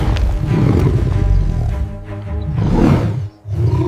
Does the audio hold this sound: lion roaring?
yes